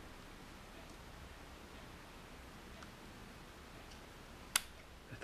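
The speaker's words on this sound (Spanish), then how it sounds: "Es un obturador muy simple." A Kodak Bantam RF folding camera from 1954-1957 fires its simple shutter in one sharp, quick click near the end, heard alone against a faint, steady room hiss.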